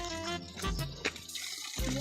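Water runs from a spring in the outdoors, a faint, close trickle and splash with uneven bursts of flow.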